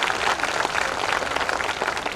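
Dense applause from a school audience at a children's festival, steady continuous clapping from a large crowd filling the whole stretch with no talk.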